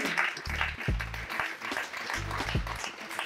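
A small audience at an awards ceremony in Pointe-Noire claps in two short, fairly faint bursts with a brief lull between them.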